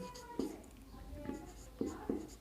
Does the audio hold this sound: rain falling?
no